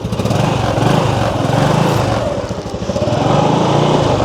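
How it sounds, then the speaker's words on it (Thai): Idling Honda Dream C125 motorcycle engine, close and loud, with a steady rapid putter that holds even throughout and no talking. "เสียงเครื่องแน่นๆ นะครับคุณผู้ชมครับ"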